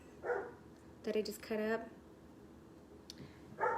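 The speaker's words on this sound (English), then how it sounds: "You guys can hear my dog out there barking crazy." A pet dog barks in bursts from outside the house while someone in a kitchen prepares a cauliflower-crust pizza with vegetable toppings, the barks faint and distant under nearby speech.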